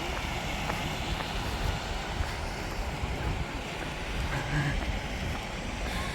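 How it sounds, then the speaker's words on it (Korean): Broad, steady rushing of a garden waterfall in a Suwon arboretum, a constant wash of falling water heard from nearby with no talk over it. "폭포."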